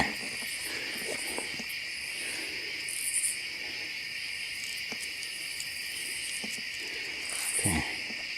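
Night insects, crickets, trill in a dense, continuous outdoor chorus at a steady level, with a few faint soft knocks and rustles nearby and no talking.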